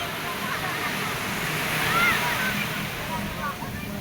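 Ocean waves wash and rush steadily at a beach where people are swimming in murky water, a soft continuous surf hiss swelling slightly midway, with faint voices in the background.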